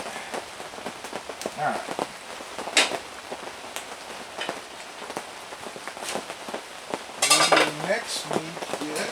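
Soup is stirred in a camp pot outdoors, with irregular metallic scrapes and clinks of a utensil against the pot over a rain-like patter, close by; a voice speaks briefly.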